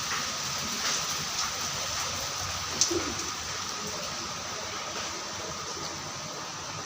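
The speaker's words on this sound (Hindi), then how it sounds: "आज इतनी बारिश हो रही है, रात से ही बहुत बारिश हो रही है" Steady, dense hiss of heavy rain pouring continuously, with a brief sharp tap partway through.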